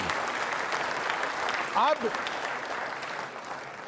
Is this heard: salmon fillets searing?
no